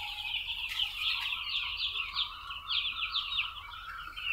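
Young broiler chicks in a brooding house peep in a dense, continuous chorus of high cheeps that rise and fall in overlapping bursts at moderate volume.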